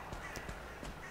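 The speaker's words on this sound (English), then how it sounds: "check out what the crows are all screaming about" Crows in Valheim caw a few times over low ambient game wind, short harsh calls spaced irregularly at moderate distance.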